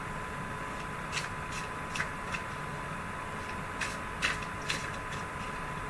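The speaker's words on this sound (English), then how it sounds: "And that's what I'm shuffling at the moment, Silver Witchcraft Tarot." A Silver Witchcraft Tarot deck is shuffled by hand, producing soft, irregular riffling bursts and light card flicks over a steady low room hum, with no talking.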